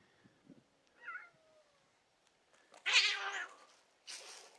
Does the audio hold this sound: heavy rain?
no